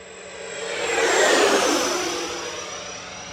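FMS Su-27 radio-controlled model jet with twin 70mm ducted fans at full throttle during a dive, a loud steady whine that swells to a peak in the middle and then eases off slightly, with no talk over it.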